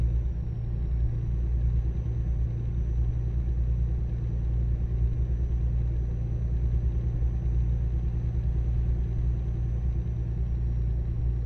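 A continuous deep truck engine rumble in American Truck Simulator, modded, drones steadily throughout, low and heavy with no pauses or changes in pace.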